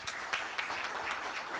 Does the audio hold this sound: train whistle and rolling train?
no